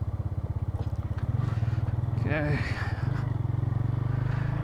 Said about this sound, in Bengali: টিভিএস রেডার এই বাইকটার বেশ ভালো টান আছে